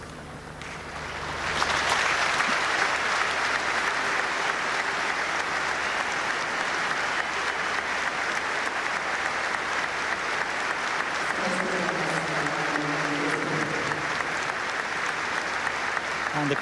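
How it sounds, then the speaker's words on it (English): Stadium crowd at an All-Ireland senior football quarter-final between Donegal and Kerry breaking into sustained applause, a dense wash of clapping that swells quickly and holds steady and loud throughout, with faint murmurs underneath. "the crowd breaking into a spontaneous round of applause"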